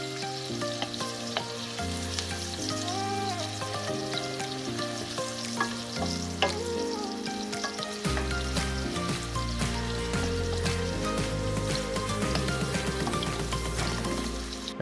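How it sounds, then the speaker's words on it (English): Chopped onions and shallots seasoned with black pepper fry in hot oil in a pan for pasta puttanesca, making a continuous, even sizzle with soft stirring. Background music plays over the sizzle throughout. "Cook the onions and shallots until they're translucent."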